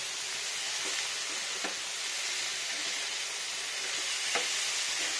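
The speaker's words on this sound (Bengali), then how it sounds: "আর এখানে দেবো কাঁচা লঙ্কা চেরা, একটু ফ্রাই হবে টমেটোটা।" Tomato and slit green chillies fry in a pan with a continuous hiss of sizzling oil and a few faint clicks of a utensil, close and steady with no voices.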